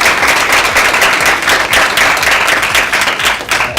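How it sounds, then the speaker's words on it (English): A loud, lively round of applause from the audience at the Future Females Johannesburg event, with many hands clapping in a close, continuous burst that holds for nearly four seconds. "can we do a round of applause for the amazing speakers that spoke before us?"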